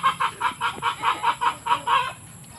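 Native chickens cluck in a quick, regular series of about a dozen short calls, close and clear in a quiet yard.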